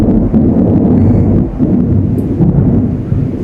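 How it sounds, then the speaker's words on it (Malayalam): Thunder during rain in a hilly area, a deep continuous rumble close and loud throughout, with a low roar of rain and wind buffeting the microphone. "ഇടി കേട്ടോ."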